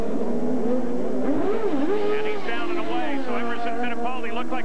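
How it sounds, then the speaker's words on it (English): A 1995 CART IndyCar race car engine at Detroit revs and roars with shifting pitch, heard under continuous race commentary. "Roar of the engine as Emerson continues to flip it and keep it alive"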